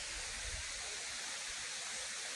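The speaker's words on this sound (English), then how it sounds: "Beautiful waterfall. Look there, the mountain and the waterfall" A waterfall at the Walter Sisulu Botanical Gardens pours as a steady, even rush of broadband noise, faint and distant, with no pauses and no voices.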